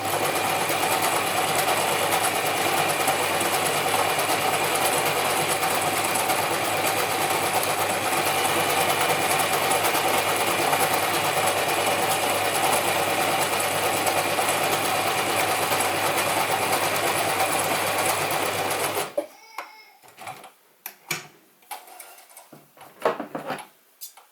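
Vintage Gritzner 1002 or Pfaff 307 sewing machine running steadily and loud, stitching through three layers of light denim for about nineteen seconds, then stopping, followed by scattered handling clicks and rustles.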